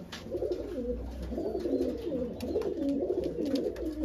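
Young home-bred Madras pigeons coo in a steady, overlapping run of soft, low, rolling calls, close by and continuous with no voices.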